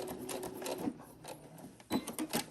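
A sewing machine stitches backward over a baby burp cloth in quick bursts of rapid mechanical clatter, fairly close and quiet, with short pauses between runs.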